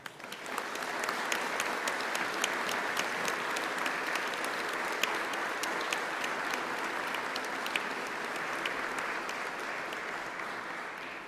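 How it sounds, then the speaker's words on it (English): A large graduation audience at a university ceremony breaks into sustained applause, dense steady clapping from many hands filling the hall for about eleven seconds without voices. "shall we have a round of applause for all those special people who are here celebrating with you today?"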